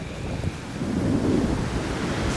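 Strong wind gusts across an open cemetery at Port Stanley, Ontario, a steady roaring rush buffeting the microphone, swelling slightly midway and holding loud to the end, with no voices.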